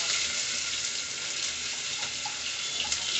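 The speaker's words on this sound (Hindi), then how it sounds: "ये डाल दिए और इसमें तेज पत्ते डाल देंगे।" Bay leaves dropped into hot oil in a pressure cooker, giving a steady, loud hiss of sizzling that fills the whole moment with no talking.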